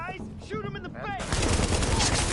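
Gunfire in The Division 2 bursts in as loud, sustained automatic shooting after a shouted voice line, the rattle filling the rest of the moment.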